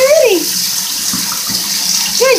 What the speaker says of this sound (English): she purposely puts her head or whatever part of her body into the water where it hits, into the shower